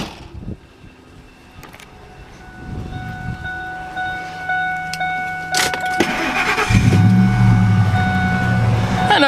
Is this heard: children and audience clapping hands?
no